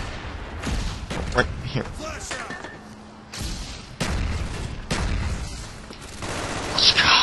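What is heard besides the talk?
gunfire in video game Call of Duty: Black Ops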